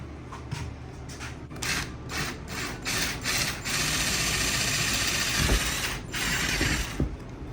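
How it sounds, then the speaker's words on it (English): A power drill bores holes into the panel of an IKEA PAX closet cabinet, a continuous close whirring grind with brief stops and restarts, plus ratcheting clicks near the start. "So I'm going to take a drill and drill out these holes that we've already marked."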